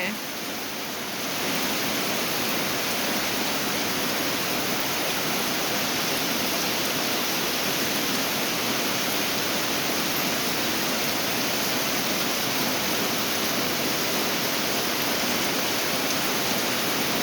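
Heavy rain pours down in a steady, loud, unbroken hiss that fills the whole stretch, rising in at the very start and holding even, close and dense.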